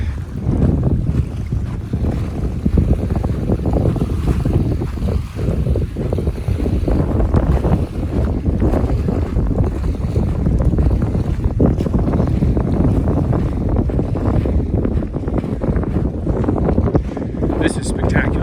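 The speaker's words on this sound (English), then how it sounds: "Got Lower Green Lake in all its windy fury, very wavy, hammering the shoreline." Strong gusting wind roars against the microphone while waves crash continuously onto the nearby shoreline of Lower Green Lake in the Three Sisters Wilderness, Oregon.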